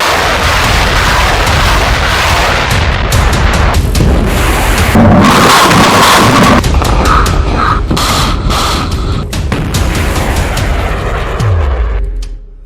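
Missile attack explosions from Hamas rockets striking the Israeli city of Eilat make loud, dense rumbling booms and blasts that overlap in a continuous roar, with sharper bursts midway, before trailing off at the end.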